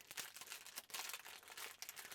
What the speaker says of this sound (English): So most of these all come in just a simple little plastic bag.